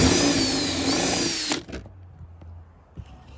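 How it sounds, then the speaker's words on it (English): A power drill whines loudly and steadily for a second and a half, drilling through a caravan fridge installation, then cuts off, leaving faint clicks and handling noises. "We're just going to drill through this."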